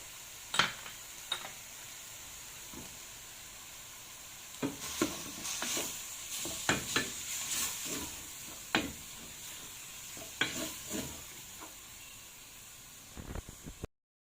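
Meat sautés in a pan with black pepper, paprika and meat spices, a soft steady sizzle with several sharp scraping stir strokes, close and moderately quiet, with no one talking.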